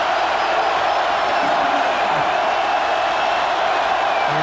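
A packed college football stadium crowd at a Michigan State versus Notre Dame game keeps up a steady, loud roar of cheering and shouting, unbroken for the whole stretch.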